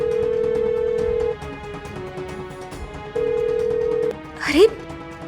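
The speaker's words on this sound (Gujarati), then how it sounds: "શાંભવીના ફોનની રિંગ તો જાય છે." Outgoing phone call ringback tone, a steady electronic buzz repeating in long on-off cycles, with voices and a brief swooping sound near the end.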